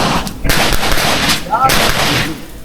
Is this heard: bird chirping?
no